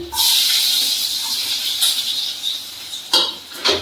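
Garlic hitting hot oil for a tadka in an okra curry gives a bright, steady hiss that fades slightly, then flares in two short bursts near the end.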